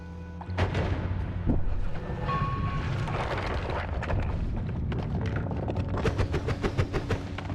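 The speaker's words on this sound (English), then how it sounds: "he will just chuck bombs now" Repeated bomb explosions in Noita, a steady stream of booming blasts and crackling debris, loud and close, continuing throughout and growing busier toward the end.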